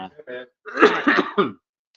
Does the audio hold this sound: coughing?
yes